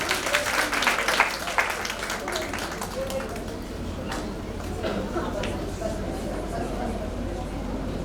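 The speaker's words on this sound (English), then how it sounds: "A big round of applause for all of us." Clapping from an audience at the inauguration of a dental show at a dental college and hospital, dense and steady at first, then thinning into scattered claps with crowd chatter underneath.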